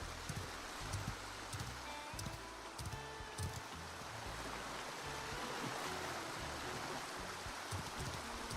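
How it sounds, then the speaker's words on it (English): Waterfall ambience in the fantasy online game Ashes of Creation: a steady, quiet rush of falling water with a soft, even hiss and no speech. "I love the ambience, the sound of the waterfall."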